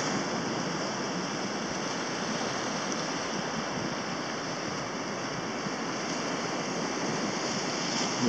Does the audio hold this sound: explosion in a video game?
no